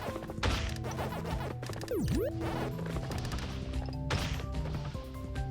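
Blocks smashing down in a Pac-Man game, loud crashing thwacks repeating every second or so over busy game music, with a swooping tone sweeping down and back up in the middle.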